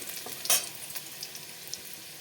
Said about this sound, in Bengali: তেলটা গরম হয়ে গেছে দিয়ে দেবো রসুন